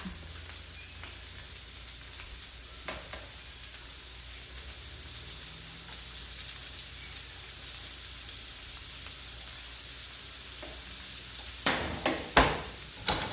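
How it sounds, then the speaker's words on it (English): Flour-dipped sea scallops sear in hot fat in a pan, giving a steady, even sizzle that holds throughout, with a few sharp clinks and knocks near the end. "you want that nice hot sear when you put it into the fat"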